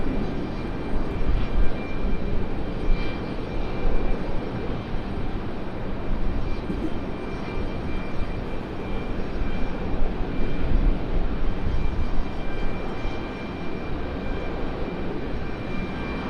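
A Boeing C-17 military transport aircraft flies by near Raleigh-Durham International Airport, producing a sustained, loud roaring jet-engine drone that holds evenly throughout with mild swells and no talking.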